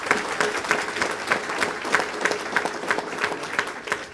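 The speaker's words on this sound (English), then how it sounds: "I want you to give them a round of applause" An audience applauds at an airport event in Ireland, with many hands clapping in a fairly even rhythm that holds steady throughout, full-bodied and close.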